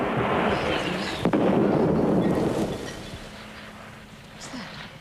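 Bombs explode in a wartime 1917 setting, easily mistaken for a thunderstorm: a heavy, rumbling roar with a sharp crack partway through, fading into a low distant grumble.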